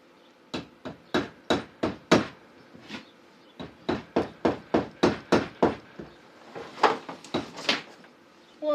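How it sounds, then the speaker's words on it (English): Mallet tapping on a valve in a Ford 351 Windsor cylinder head during a rebuild, about seventeen sharp knocks in steady runs with short pauses, close and alone. "give her a tap with the mallet here"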